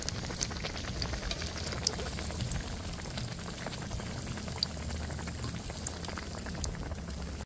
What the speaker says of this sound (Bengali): আর এইভাবে বেসনে চুবিয়ে চুবিয়ে দিয়ে তেলের মধ্যে দিয়ে দেবো